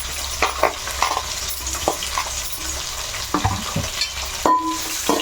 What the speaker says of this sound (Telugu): ఇవి బాగా ఎరగాలమ్మా మధు ఇదిగో ఇలాగ ఉల్లిపాయలు ఇలా బ్రౌన్ కలర్ రావాలి